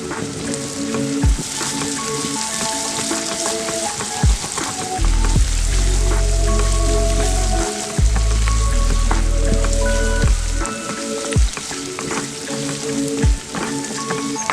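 Onions, green chillies, curry leaves, ginger and turmeric fry steadily in a pan for a prawns fry recipe, a loud continuous sizzle with crackles, close and alone.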